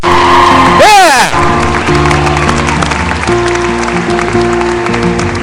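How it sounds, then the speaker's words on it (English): Graduates at a 2012 spring commencement ceremony applaud and cheer in a large crowd, loud sustained clapping and shouts mixed with a sweeping siren-like whoop early on and ringing tones through the noise. "Give yourselves a round of applause."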